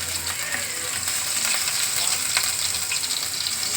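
Chopped garlic fries in a pan, giving a dense, even sizzle with fine crackling pops, close and constant throughout.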